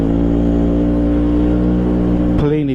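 A Vespa PX scooter with a Polini big box exhaust, up-gear kit and Vespa ignition at 18 degrees runs steadily at high revs while riding, a loud continuous buzzing drone that dips briefly near the end.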